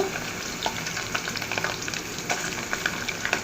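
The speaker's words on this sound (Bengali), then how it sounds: "শুটকিটা তেলে ভালো করে ভেজে নিব" Steady crackle and sizzle of dried fish frying in oil, with small popping bursts scattered throughout.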